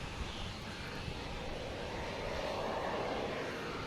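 An American Airlines airliner in Allegheny retro livery at Boston Logan Airport, a steady broad jet roar from a distance, even and sustained without voices.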